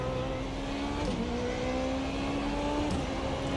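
A Formula Renault 3.5 single-seater engine in the iRacing simulator revs steadily toward its roughly 9,000 RPM limit, a sustained whining drone with rising tonal lines and brief dips around shifts, continuous and fairly loud with no talk.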